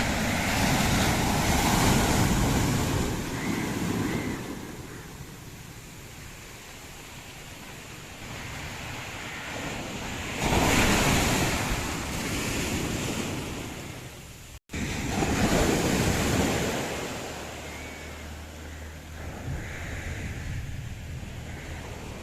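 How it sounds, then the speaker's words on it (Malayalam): Steady roar of strong sea surf with waves breaking in broad surges against a shore with an old sea wall, heavy wind buffeting the microphone throughout; no voices. "തിരമാലകൾ അടിച്ചുകൊണ്ടിരിക്കുന്നത്"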